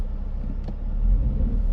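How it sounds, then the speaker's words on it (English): A 118-horsepower BMW 318i E46 with a five-speed manual and 300,000 kilometres drives through city streets, its engine a low steady rumble heard from inside the cabin, rising slightly toward the end. "118 horsepower, the smallest e46 engine, first engine that gives some joy of driving."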